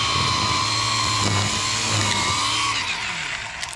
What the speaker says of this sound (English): This is just a string trimmer.